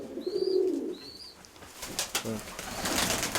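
Several pigeons from an upper loft coo in low, soft, repeated phrases, fairly close, followed by rustling and shuffling movement with a few brief chirps.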